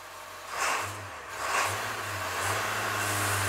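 A diesel engine running on waste vegetable oil is revved twice, each swell a rising mid-range roar over a steady low idle that then holds at a raised drone, heard close outdoors.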